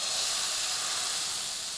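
Thick sponge dosa batter sizzling on a hot tawa griddle: a steady, close, bright hiss that carries on evenly with no talk over it.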